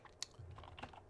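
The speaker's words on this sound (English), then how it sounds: "Now we can type something." Short burst of typing on a computer keyboard in Windows, a few quick key clicks with a sharper tap near the start, faint and close.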